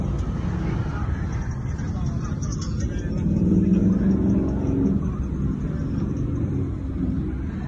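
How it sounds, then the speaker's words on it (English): Big trucks passing by on a road, a loud continuous low rumble that builds to a peak midway and then eases slightly, heard close to the roadside. "Big trucks are passing by."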